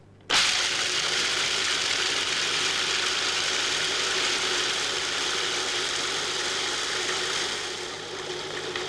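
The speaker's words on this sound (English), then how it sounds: "Add the peanuts to the work bowl with the metal blade in place. Turn the machine on and watch." A 1998 Cuisinart DLC-10 food processor spins its metal blade through peanuts in a Lexan work bowl, starting abruptly with a loud, steady mechanical roar and rattling clatter that holds nearly constant, easing slightly near the end.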